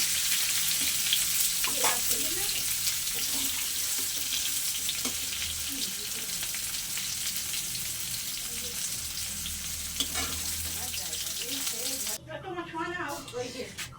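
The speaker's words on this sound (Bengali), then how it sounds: "এবার আমি ওই তেলের মধ্যে এঁচড়গুলো ভালো করে ভেজে নেব" Chunks of raw jackfruit fry in hot oil for a prawn curry, a loud, dense, continuous sizzle with occasional stirring clinks and a voice speaking over it near the end.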